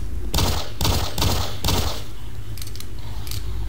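Rapid bursts of gunfire aimed at spiders in Doom 3 come in four loud, evenly spaced volleys, followed by a few fainter clicks and hits against a low humming backdrop.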